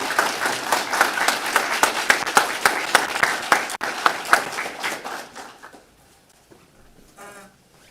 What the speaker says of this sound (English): One more round of applause for the graduating class of 43.